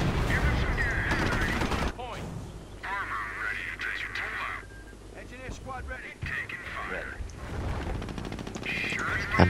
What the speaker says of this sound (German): Ein Panzer wird gerade vom Nebelwerfer attackiert